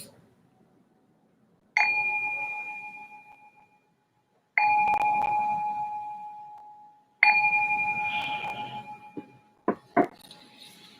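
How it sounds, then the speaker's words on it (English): A meditation bell rung to open a sitting session: three separate clear strikes, each leaving a long, slowly fading ring in a quiet room, followed by a few brief light metallic clinks at the end. "I'm just going to ring this bell to signal the start of the meditation"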